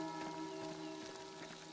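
Rain falls in the video game Pentiment, a soft continuous patter heard faintly beneath sustained musical tones.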